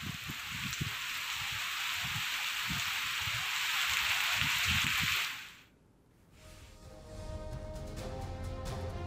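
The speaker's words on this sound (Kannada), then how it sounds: "ಒಂದು ಕಡೆ ಮಳೆ ಶುರುವಾಗಿದೆ" Steady rain pours down with a dense, loud hiss for several seconds before the sound drops away into a quieter, different background.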